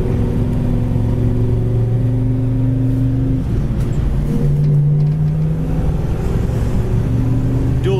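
A 1969 Chevelle Super Sport V8 with dual exhaust pulls away under acceleration, a deep, steady rumble with rising engine tones heard from inside or close by, continuous and loud throughout.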